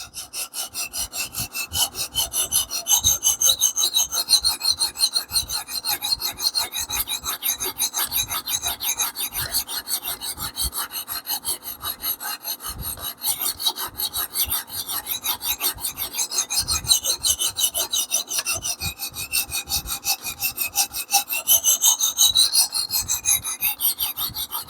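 A Damascus steel knife scrapes in steady, rhythmic rasping strokes along a sharpening stone, close and loud, with brief pauses between runs of passes and no talking.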